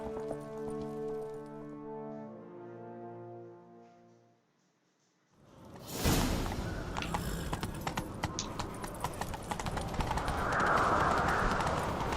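Music fades out, then a horse's rapid hoofbeats pound continuously with clattering and rushing noise, loud and busy for several seconds, in the video game The Witcher 3: Wild Hunt.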